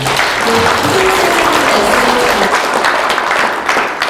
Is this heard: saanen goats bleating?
no